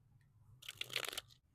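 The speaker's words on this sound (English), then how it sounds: "Let's shuffle your deck" A tarot deck is shuffled by hand, giving a brief, crisp papery riffle that rises and fades within about half a second over a quiet room, with no talking.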